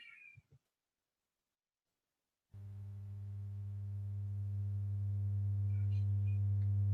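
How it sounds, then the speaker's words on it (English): A brief high chirp sounds, then silence, then a steady low sine test tone begins and holds, gradually growing louder as the gain is raised toward distortion, with faint squeaks in the background. "this is me playing back the test tone and turning up the gain until I get distortion"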